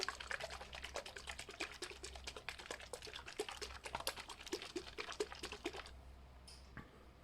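A wet snow globe being shaken hard, its liquid and white glitter flakes sloshing in quick rattling, clicky bursts for about six seconds before falling quiet.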